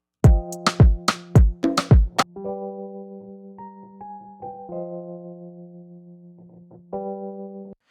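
Wurlitzer electric piano plugin with a warm, bell-like tone: a few quick struck chords, then sustained held notes that ring out and slowly fade.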